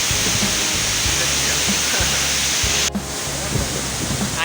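A waterfall near Ban Tham, Naxaithong district, Vientiane, rushes loudly and steadily as a broad, dense roar, close by with no break.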